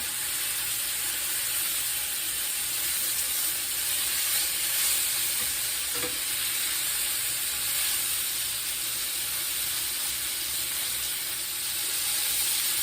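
Chicken pieces sizzle steadily in melted butter in a hot pan, a loud continuous frying hiss running throughout with a brief crackle burst near the middle.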